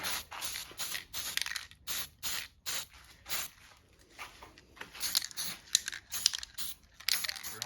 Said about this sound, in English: Don't have to use too much spray paint.